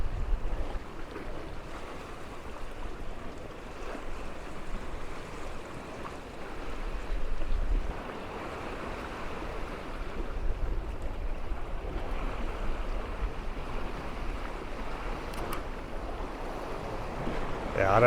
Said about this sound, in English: do a shot of the waves kind of coming in around the rocks here